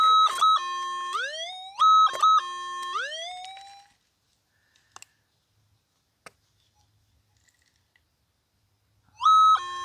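A Minelab SDC 2300 metal detector sounds a loud target tone: repeated rising, warbling electronic sweeps for about four seconds, then near silence with a few faint clicks, and the tone bursts back in at the end.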